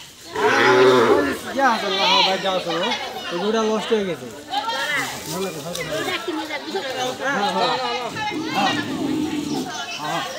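Cattle being held for vaccination at a veterinary hospital low loudly several times, close by and mixed with excited shouting and chatter from people around them.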